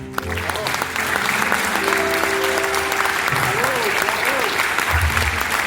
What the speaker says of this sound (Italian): Vorrei che noi facessimo un grande applauso a lui